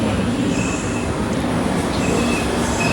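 A passenger train rolls along the rails, a loud, steady rumble heard from onboard, with wheel squeal and faint clatter running throughout.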